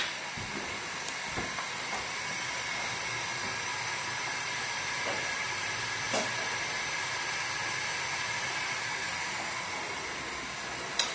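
A pan of rice boils on medium heat on a stovetop, giving a steady, loud hiss and bubbling that fills the whole stretch with only small bumps in level.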